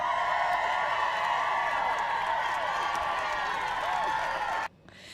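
Clapping and crowd noise from a canned sound effect play on a live stream as a dense, steady wash of applause and murmuring voices, then cut off abruptly near the end.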